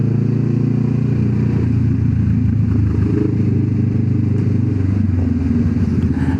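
Kawasaki Z650 big bike motorcycle engine droning loudly and steadily nearby, with a rumbling low throb and mechanical clatter that holds throughout without speech.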